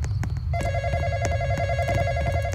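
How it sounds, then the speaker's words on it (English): A telephone in a Roblox outbreak-themed game rings with a repeating electronic trill, steady and clear over a low continuous background hum, with no talk. "phone's ringing."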